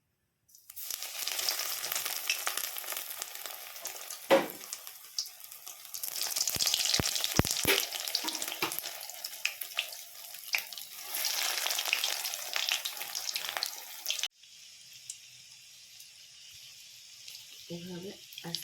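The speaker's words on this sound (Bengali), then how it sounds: "এবার একে একে আমি ফ্রাই করে নেব।" Soybean cutlets frying in hot oil in a wok: a steady bright sizzle that surges as pieces go in, with occasional spatula knocks, then drops to a faint hiss under a quiet voice near the end.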